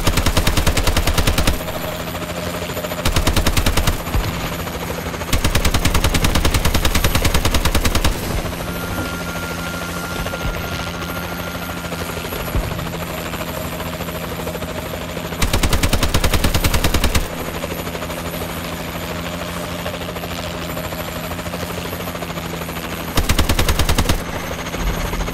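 Warbird gunship in Advanced Warfare hovering with a constant rotor drone while several loud multi-second bursts of rapid machine-gun fire erupt at irregular intervals.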